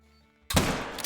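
A single sharp rifle shot at a bison in the hunting video game theHunter: Call of the Wild cracks out loud after near silence, followed by a brief echoing tail.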